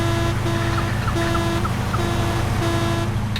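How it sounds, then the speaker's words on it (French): Car horns blare at a lively evening gathering, a steady chorus of sustained, overlapping honks repeating in long tones over a dense, loud background wash. "Concert de klaxon là"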